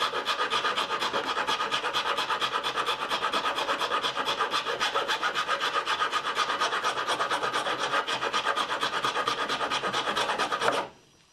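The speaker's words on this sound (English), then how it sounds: "Keep on going with that file and you'll get through to as deep as you want" A hand file rasps steadily against a bridge workpiece in fast, even back-and-forth strokes, loud and close, continuing for about eleven seconds before stopping abruptly.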